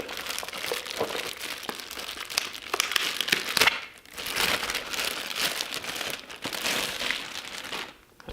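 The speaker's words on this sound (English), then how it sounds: "let's go ahead and open up the GoPro." Packaging for a GoPro Hero 7 Black is opened, with steady crinkling and crackling of plastic and paper, a few sharper tears, and a short pause before the rustling resumes, all close up and with no talk.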